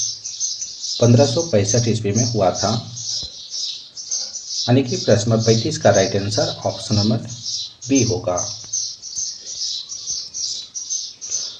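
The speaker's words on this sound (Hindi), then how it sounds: "घर में चिड़ियाँ हैं, चिड़ियाँ चहचहाती रहती हैं" Small birds chirp and tweet continuously inside a house, high rapid calls running throughout while someone speaks in Hindi over them.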